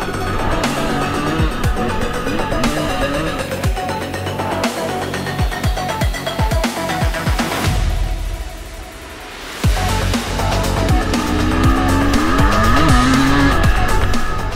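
Enduro motorcycles ridden at wide open throttle through deep white sand on an EnduroGP test in Santiago, Portugal, engines roaring loud and close, revving continuously with sharp pitch changes as bikes pass.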